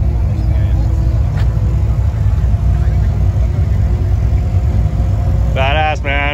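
2018 Chevrolet Camaro SS 1LE V8 engine during an autocross run, a loud, steady drone throughout, ending with brief wavering tire squeals near the end.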